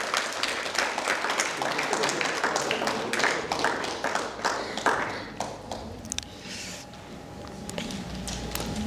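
Applause from the audience at a Tamil literary meet-and-greet in Melbourne, a dense burst of sharp hand claps that holds for several seconds, then thins out and fades away.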